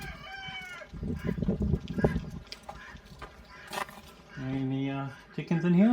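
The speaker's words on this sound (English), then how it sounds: "Some other chickens in there." Chickens clucking and calling nearby, with a voice talking over parts of it and a few brief crowing-like calls mixed in.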